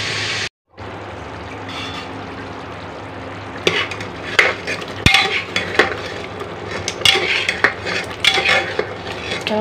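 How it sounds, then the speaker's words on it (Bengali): Spices and goat liver are sautéed in a pan while a utensil scrapes and clinks against the metal, irregular stirring strikes over a low background sizzle, close and fairly loud, after a brief dropout near the start. "এখন কষানো হচ্ছে।"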